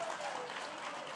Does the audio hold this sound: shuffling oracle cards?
no